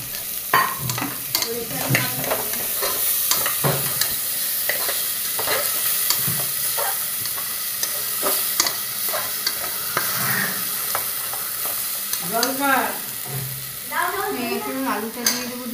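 Spice paste for dal fries in a pan while a spoon stirs and scrapes it in a rapid, irregular rhythm over a constant close sizzle.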